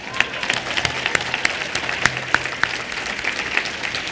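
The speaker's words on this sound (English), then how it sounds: "I appreciate the applause and the solidarity" Audience applause at a legislative luncheon, steady moderate clapping from a seated crowd with a few sharp individual claps standing out, continuing evenly throughout.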